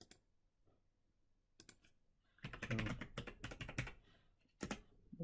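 Bursts of clicky typing on a computer keyboard while setting up a remote camera unit, a brief tap early, then a dense flurry of keystrokes with a final short burst, close and fairly quiet with no talking.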